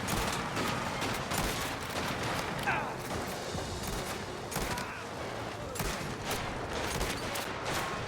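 Dense, continuous bursts of rapid gunfire crackle throughout in the video game Mafia: The Old Country, sharp repeated shots layered over a constant rumbling background, with no pause between volleys.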